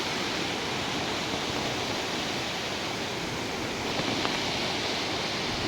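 A dangerous, fast-flowing mountain river in the Dooars roars in a loud, unbroken wash of rushing water, close and constant, with no speech.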